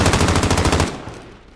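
Call of Duty Warzone automatic gunfire: a loud, close, rapid burst of about a dozen shots lasts under a second, then its echo fades away.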